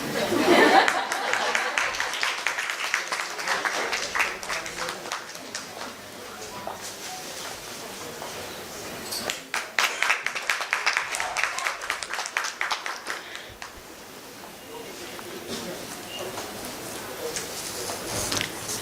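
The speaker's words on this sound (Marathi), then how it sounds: "ज्यांच्यावर तोप आलेला नाहीये त्यांनी टाळ्या वाजवायला हरकत नाही." Audience applause at an astrology convention in Thane during a felicitation ceremony, scattered clapping that comes in waves, strongest near the start and again around the middle, mixed with crowd chatter and light laughter.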